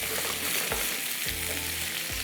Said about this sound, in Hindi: हल्का से फ्राई होंगे, फिर उसके बाद मैं इसको उसमें डाल दूँगी।